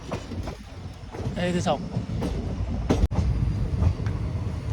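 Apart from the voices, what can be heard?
riding a moving train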